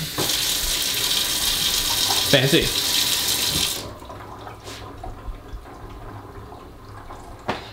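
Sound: water running from newly installed kitchen sink faucet

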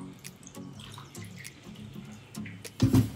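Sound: filling a measuring cup with water

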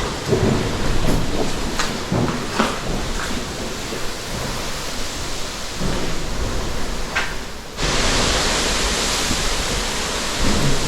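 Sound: thunderstorm with rain and thunder

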